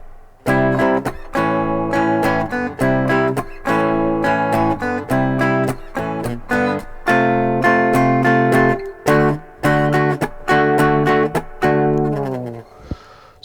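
Three-string guitar in GDB tuning strums a song intro, punchy close chord stabs in a bouncing rhythm with brief pauses, ending on a softer ringing chord.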